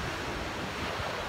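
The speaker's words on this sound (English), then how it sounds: "I don't know if you can hear the waves in the background" Ocean surf breaking at night on the shore at San Clemente, California, heard as a steady, fairly faint wash of broadband noise with some wind buffeting the microphone.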